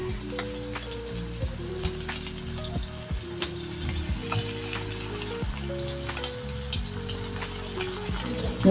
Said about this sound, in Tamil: ஒரு சைடு மட்டும் வெள்ளை எல்லாம் டிப் பண்ணி ஷாலோ ஃப்ரை பண்ணி எடுக்க வேண்டியதுதான்.